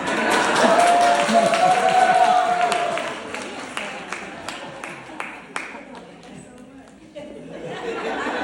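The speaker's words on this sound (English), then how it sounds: "Gave me a big clap for that." An audience at a comedy honors ceremony claps and chatters; crowd noise with a brief cheer early on, then a run of scattered individual claps fading out, with talk throughout.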